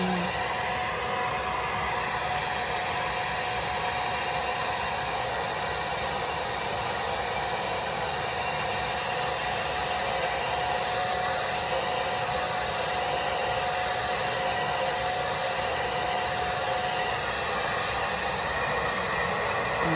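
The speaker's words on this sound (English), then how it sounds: "I'm gonna blow dry it just for a little bit so it can dry just a little faster" A handheld hair dryer blows air on a wig during a middle-part wig install, giving a steady, loud, unbroken whoosh that holds for the whole stretch with no talking.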